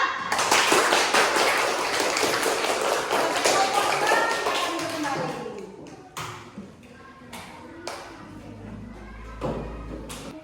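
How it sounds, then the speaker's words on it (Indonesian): A classroom group of students claps for about five seconds, fairly close, then it thins into scattered taps and thumps as voices talk quietly. "Mari kita tepuk tangan buat kelompok 2."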